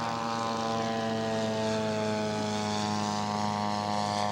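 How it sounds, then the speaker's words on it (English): Newport 17 scale model airplane with a two-stroke engine and big propeller, a steady loud buzzing drone with strong harmonic whine, held constant throughout as the plane flies nearby. "It's got a great big prop on a two-stroke."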